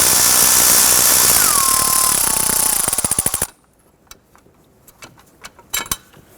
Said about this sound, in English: I'm going to go ahead and loosen and remove this upper plate bolt here